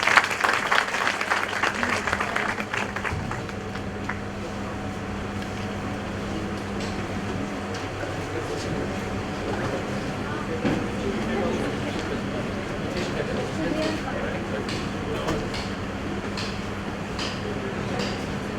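Steady applause from a seated audience welcomes guests at a Bar Council of Delhi enrolment meeting in an echoing hall. The clapping is loudest at the start, then settles into a long, even patter with a low background hum.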